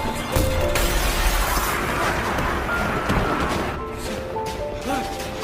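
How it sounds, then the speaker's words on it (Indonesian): A glass door bursting apart as a mass of zombies pushes through in a zombie film, a dense, sustained crash and clatter of breaking glass mixed with rumbling commotion, loud and continuous throughout. "membuat pintu kaca itu pecah"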